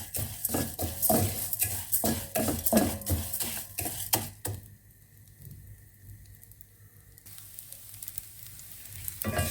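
Ghee and panjeeri ingredients sizzle as they dry-roast in a hot pan, with dense crackling and spattering for a few seconds before settling into a softer, quieter hiss.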